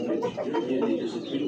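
A racing pigeon coos repeatedly in soft, low, rolling phrases, close by, in a loft in Tacloban, Leyte, Philippines.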